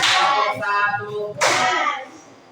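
Schoolchildren clap in a classroom on their teacher's cue, a sharp burst near the start and a second loud burst about a second later, each fading into light room noise.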